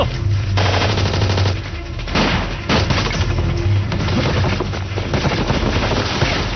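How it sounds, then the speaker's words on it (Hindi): Movie-scene gunfire in a Hindi-dubbed Hollywood film: rapid bursts of automatic fire crackle continuously, loud and close, with heavy booming shots mixed into a dense barrage. "ये गोलियां क्यों चल रही हैं?"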